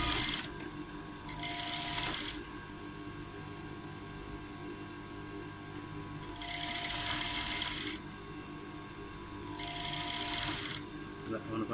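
A sewing machine stitches a plain blouse in three bursts of rapid mechanical whirring, each lasting about a second, close by, with steady background hum between them and a person talking.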